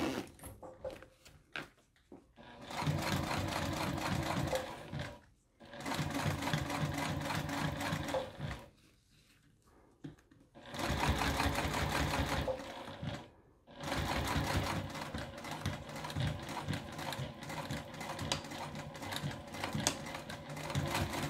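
A sewing machine stitches through a shoulder bag in several long, fast bursts of rapid chattering needle strokes, separated by short pauses, close and fairly quiet, with no voices.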